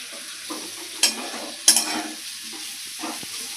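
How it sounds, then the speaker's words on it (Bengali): Radish fries in a covered pan with no water added, giving a soft, steady sizzle broken by a couple of sharp clinks of a spoon or lid and a few light stirring scrapes; close and quiet, without voices. "মূলোটা যদি এরমভাবে ভাজি করা যায় ঢাকা চাপা দিয়ে ঢাকা চাপা দিয়ে করছি"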